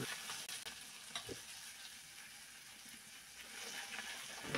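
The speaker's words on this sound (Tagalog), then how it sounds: "At igigisa ko na muna itong mga hiniwa kong patatas ng saglit lang." Sliced potatoes sizzle and crackle in a pan of butter and onion, a steady moderate frying hiss with occasional stirring scrapes, no voices.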